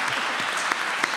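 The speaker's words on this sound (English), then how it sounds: "I hope you'll join me in giving a hand of applause to our panelists" An audience claps for a panel of speakers at an event, a brief, dense burst of many hands heard close and continuous.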